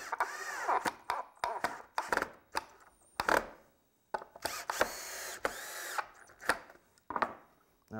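A cordless drill drives two screws through a piece of plywood into a 2x4, heard as a series of close, loud, stuttering whirs and clicks with brief gaps between bursts.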